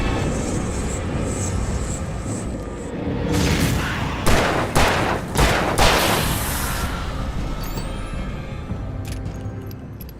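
Pump shotgun fire in the video game Alan Wake Remastered, several loud, sharp blasts in quick succession midway, set against a constant rumbling game soundscape with no speech.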